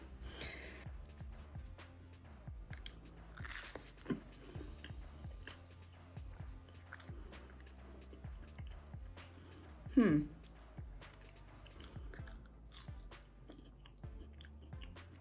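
Close-up biting and chewing of a vegan grilled cheese sandwich served with a pickle, with soft repeated crunches and mouth sounds throughout, one louder bite standing out, over faint background noise.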